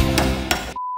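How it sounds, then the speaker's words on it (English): Hammer blows on a metal spoon being shaped into a ring, two sharp clinking strikes over a hum, then a cut to a steady electronic tone. "hammering."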